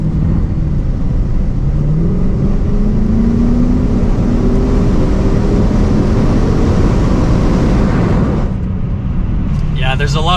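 Dodge Challenger engine pulling hard while driving in winter, a loud low rumble with rising tones as it accelerates, heard from inside over wind, then easing off near the end.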